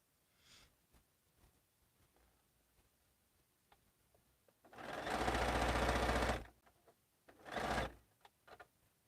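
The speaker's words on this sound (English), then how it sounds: "These blocks sew together so fast." A sewing machine stitching quilt blocks together runs in two bursts, one long and steady, then a shorter one, close and alone among faint handling clicks.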